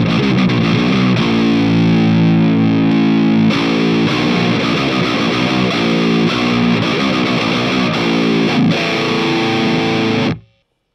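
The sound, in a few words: Hotone Krush bitcrusher with overdrive on electric guitar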